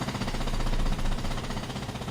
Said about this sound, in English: Who's got the freaking jackhammer?